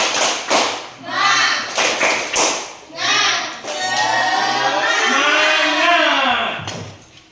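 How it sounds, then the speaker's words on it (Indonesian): A group of students does a rhythmic 'tepuk semangat' clapping chant in a classroom, bursts of patterned claps and shouted voices alternating with a leader's speech. "sekarang kita tepuk semangat"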